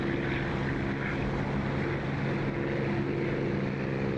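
Propeller aircraft engine in a flight simulator combat game, a continuous droning buzz with steady harmonic hum, moderately quiet and unchanging for the whole few seconds, no speech.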